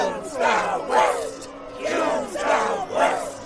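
A crowd of monsters in an audio drama gives gleeful rhythmic shouts, several loud chant-like bursts in a row of massed voices yelling together, close and forceful.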